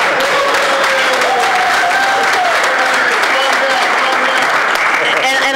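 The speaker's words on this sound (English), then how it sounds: "Oh, where's my applause?" An audience applauds after a panel presentation on an e-filing and document management system. Loud, continuous clapping fills the room while people talk over it.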